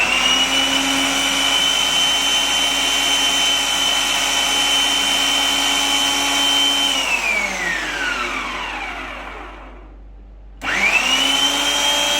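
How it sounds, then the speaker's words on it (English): Food processor finely chopping onions, a loud steady motor whine running for about seven seconds, then winding down to near silence before starting up again sharply. "So I am using the food processor to get the onions chopped very finely."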